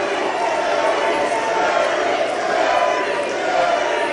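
A wrestling arena crowd jeers at Kras Van Tasel with a loud, continuous wash of voices and shouts, steady throughout with no clear breaks.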